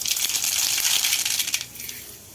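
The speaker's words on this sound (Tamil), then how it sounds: "எண்ணெய் காயுது இப்போ கடுகு போட்டிருக்கேன்" Mustard seeds crackle and spatter in hot oil while tempering for paniyaram, a dense, loud rain of tiny pops that thins out near the end, with no talking.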